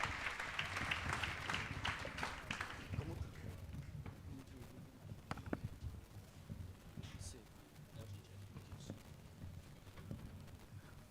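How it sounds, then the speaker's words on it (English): A crowd applauds to welcome the electrical power system learners at the launch of an engineering school of specialisation, a dense patter of clapping at the start that thins out into a quieter room with scattered noises. "Can we please welcome them with a big round of applause?"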